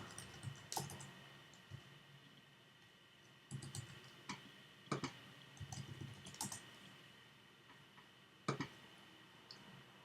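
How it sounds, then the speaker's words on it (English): Sparse mouse clicks on a web page, single and paired sharp ticks spaced a second or more apart against a quiet room hum. "So here, I simply click Recommend."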